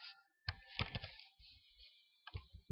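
Typing on a computer keyboard while entering data into an Excel sheet: quiet, irregular clusters of key clicks with short pauses between bursts.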